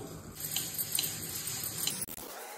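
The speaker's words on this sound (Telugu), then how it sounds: "కొంచెం నీళ్లు వేసుకోవాలి" Water streams steadily into a pot of sugar to start syrup for boondi laddu, a continuous pour that cuts off abruptly near the end.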